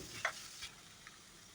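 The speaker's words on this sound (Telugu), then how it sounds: "మునక్కాడలు కట్ చేసి వాష్ చేసుకుని ఇందులో వేసేసుకుందాం అలాగే కాలీఫ్లవర్ కూడా పీసెస్ వేసుకుందాము" Drumstick pieces and cauliflower florets dropped into a hot cooking pan, giving a faint sizzle with a couple of soft, brief clatters near the start, quiet and without voices.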